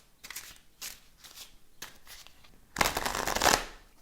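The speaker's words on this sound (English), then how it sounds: "I shuffle." Tarot cards being shuffled by hand, a few soft riffling bursts close by, ending in a louder, longer riffle; quiet and alone.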